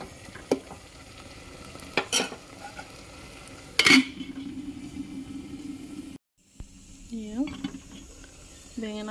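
Dried fish is stirred in a hot pan, with scraping utensil strokes against the metal over a steady sizzle of frying, and a brief pause near the end before stirring resumes.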